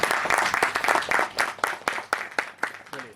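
A crowd at a devotional gathering before the Ram Lalla consecration applauds loudly, with steady, close, overlapping hand claps that stay strong throughout the short burst.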